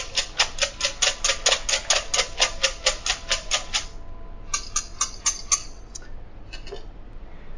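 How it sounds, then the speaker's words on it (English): Eggs being whisked in a bowl for an omelette: about fifteen quick, even metallic taps in a steady rhythm, then a pause and a few looser strokes, close and clear. "One more little whisk."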